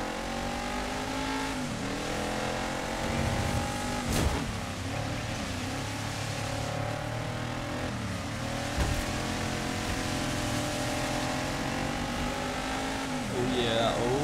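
Big-wheeled car racing off-road in Dirt 5, engine droning steadily with revving and shifting harmonics across the run, a sharp bang near the middle, and game music layered underneath.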